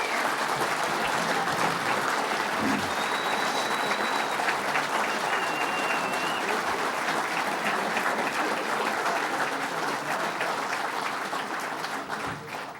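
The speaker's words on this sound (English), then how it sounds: "And give them another round of applause because they deserve it." An audience at a power plant announcement event claps steadily in a long sustained round of applause, many hands close and loud, tapering slightly at the end.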